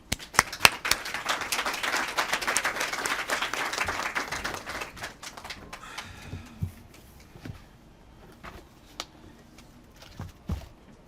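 An audience at a Barnes & Noble bookstore applauds to welcome author Mark Obama Ndesandjo, a dense steady round of clapping that thins out after about five seconds into scattered claps and small room sounds.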